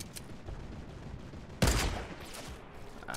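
A Fortnite turret lets off a sharp burst of gunfire that cuts in abruptly partway through and rattles loudly for about half a second, then decays over quiet background ambience.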